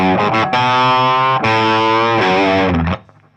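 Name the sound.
distorted electric guitar playing a song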